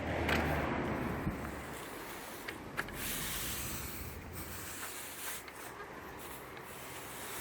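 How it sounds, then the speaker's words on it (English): A stiff brush sweeps dry sand back and forth across block paving to fill the joints on a driveway, making a steady, continuous outdoor scratching and rasping that lasts throughout, close by, with a few small knocks and no talk. "Just run over, backwards, forwards. You're not putting too much pressure on, you're letting the brush do the work."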